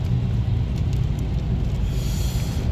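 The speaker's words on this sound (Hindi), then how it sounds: "अच्छे से बारिश हो रही।" Steady rain falls on a road in Saudi Arabia as vehicles, including an oil tanker, pass by, a constant low rumble of traffic and hiss of rain with no voices.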